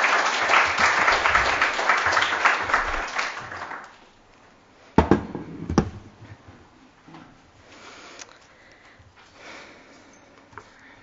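An audience at a seminar gives a round of applause that swells loudly for about four seconds and then dies away, followed by a few thumps, shuffles and quiet room noise.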